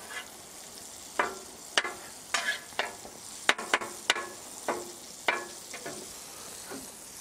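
Unsalted butter sizzles as it melts on a Blackstone griddle, while a utensil scrapes and taps the flat top in quick, irregular strokes over a soft frying hiss.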